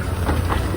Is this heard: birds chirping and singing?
no